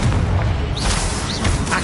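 A Confringo spell explosion in Hogwarts Legacy booms loud and dense, layered with rumbling blasts and short whooshing bursts across under two seconds.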